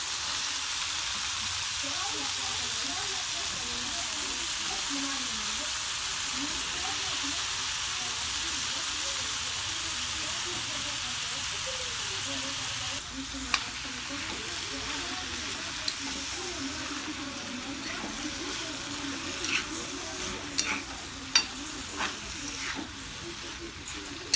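Bottle gourd bhaji with green chillies and turmeric fries in a pan, a steady loud sizzle running throughout, joined in the later half by scraping stirring strokes and small clinks.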